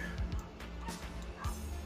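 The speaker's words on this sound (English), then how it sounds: "without dogs barking in the background" Dogs bark in the background, a few short, muffled yips and woofs that rise above a steady low hum.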